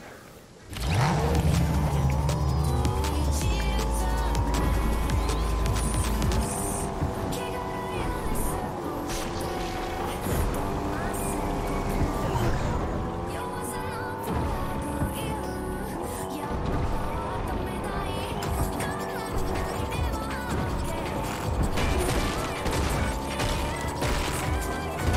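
A Fortnite vehicle drives continuously with a loud, rattling mechanical engine drone and clanking bumps, with voices talking over it.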